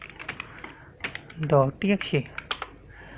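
Keys clatter on a computer keyboard as a short string is typed into a terminal during a cloud security challenge, irregular close taps with a brief burst of speech in the middle.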